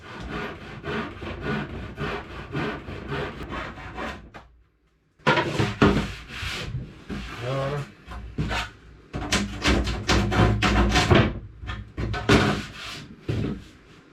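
Handsaw cutting through a plywood board, with fast back-and-forth rasping strokes in busy bursts, a short pause partway, then more vigorous sawing close to the microphone.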